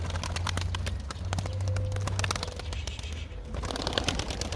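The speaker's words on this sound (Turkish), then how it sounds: "Bir gösterir misin o kuşları arkadaşlara?" Pigeons in a loft, a male and a female, with dense bird calls and wing or foot clatter close by over a steady low hum, continuous throughout.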